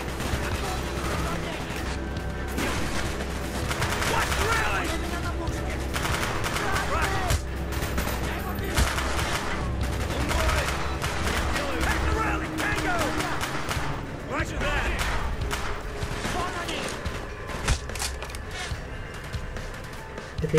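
A gun in Call of Duty: Black Ops fires in rapid, sustained bursts of sharp shots over busy combat noise and background effects, loud and close throughout the stretch.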